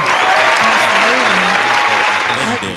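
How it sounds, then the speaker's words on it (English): Audience applause fills the room, dense and steady clapping from a crowd at a talk show, close and loud, fading slightly at the end. "Clap it up for that."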